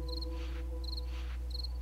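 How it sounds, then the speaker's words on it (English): Steady cricket chirping at night in the survival video game 7 Days to Die: short high trilled bursts repeat about every 0.7 seconds over a constant low hum, with no talking. "you start hearing crickets at 1900 hours"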